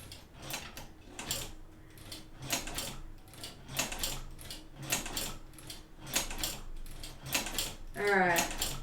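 Quick bursts of rhythmic mechanical clatter from a sewing machine stitching fabric, several short runs with pauses between, close and fairly quiet, with a voice briefly speaking near the end.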